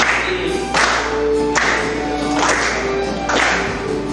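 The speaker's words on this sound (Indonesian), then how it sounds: "Pakai tepuk tangan ya, biar semangat." Schoolchildren clap along in rhythm while singing a national song in a classroom, with loud group claps landing at regular beats over the sung melody.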